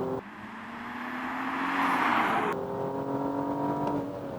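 A BMW M235i cruises in normal drive mode, its engine humming steadily and swelling slightly before a gear change shifts the tone, heard from inside the cabin without talk.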